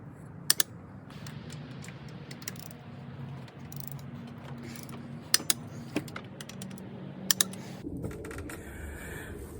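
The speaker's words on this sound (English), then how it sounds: "I'm gonna go ahead and torque both these heads down." A torque wrench tightens the cylinder head bolts on a Chrysler Sebring 2.7L engine, giving off a few sharp, isolated ratchet clicks spaced across a low background hum, with no one talking.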